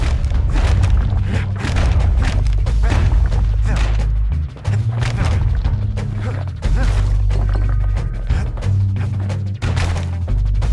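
Heavy blows land on a gas fella in Bastion, a dense run of loud booming thuds and whacks over a low rumbling game score, with no voices.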